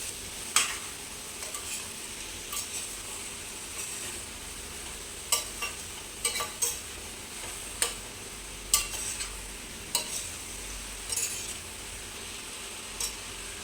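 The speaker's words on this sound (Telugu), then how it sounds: "మనం వేసిన సాల్ట్ అంతా ఈ ముక్కలకు పట్టేటట్టు కలుపుకోవాలి." Salted chopped bottle gourd pieces being stirred in a pan, with a steady low sizzle of frying underneath and sharp intermittent scrapes and clinks of a utensil against the pan, fairly close and without talk.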